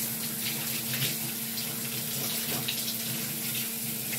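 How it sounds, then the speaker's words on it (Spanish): Warm water runs steadily from a tap into a basin while feet are rinsed, a close and constant splashing rush with faint shifting splashes throughout. "Y vamos a enjuagar los pies con agua tibia."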